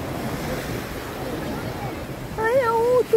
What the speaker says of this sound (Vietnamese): Chim hải âu.